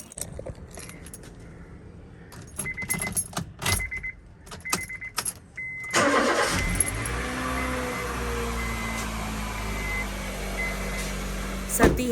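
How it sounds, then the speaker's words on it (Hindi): A car engine starts on a cold windy day, catching with a burst after some clinks and rattles, then settling into a steady, loud idle that continues to the end. "अभी मैं गाड़ी स्टार्ट कर लेती हूँ, क्योंकि इंजन को भी थोड़ा टाइम लगता है गर्म होने में।"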